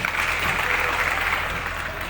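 Loud, dense audience applause at the Kalidas Mahotsav festival in Uchchaith, Benipatti, Madhubani, a steady wash of many hands clapping together with a faint crowd murmur underneath.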